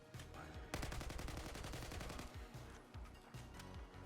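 Rapid automatic fire from an AK rifle in the Battlefield 6 video game: loud, dense bursts of rapid shots starting after a brief pause and continuing with short breaks, punchy and close.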